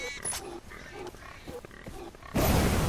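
Pigs in the video game Far Cry 4 grunt in a rapid series of short low snorts at a slaughterhouse, ending in a sudden loud burst of noise.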